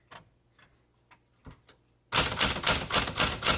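A 1968 Smith Corona Super Sterling manual typewriter: a few sparse key strikes, then a sudden loud burst of rapid, continuous typing with sharp clacks close up.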